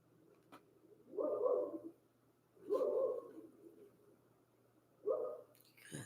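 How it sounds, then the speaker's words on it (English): Dog barking three times, each bark a drawn-out, hoarse, muffled woof spaced a couple of seconds apart, distant and quiet against a low hum. "This dog I have, she is the town barker"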